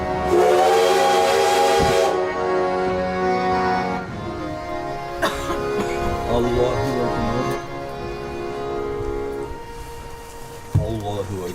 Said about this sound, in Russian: Слышно было только шум поезда.